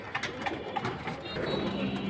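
Flying pigeons cooing at close range in a pigeon sale setting, a steady low coo rising under faint background voices.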